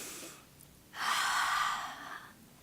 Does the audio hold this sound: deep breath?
yes